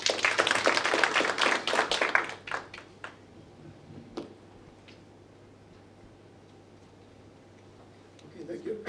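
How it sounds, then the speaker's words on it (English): An audience at a Kenyan population and development presentation breaks into brief, fairly close applause that fades after about three seconds, leaving a quiet room with a few taps. "Let's applaud."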